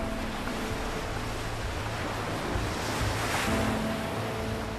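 Ocean surf washes steadily onto a sea beach, a continuous loud broadband roar with a slight swell in the middle, heard alone with no voices.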